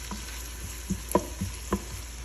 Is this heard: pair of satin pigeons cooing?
no